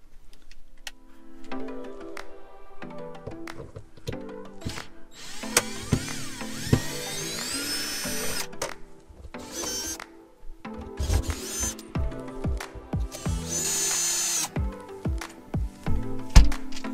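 A power drill backs screws out of a vent fan trim ring on a teardrop trailer. Several short, close whirring bursts with rising and falling pitch mix with scattered clatter and handling noise.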